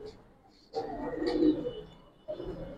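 Gribaz and coloured pigeons cooing nearby, two or three soft throaty coos separated by brief pauses, with faint background sounds and no clear talk.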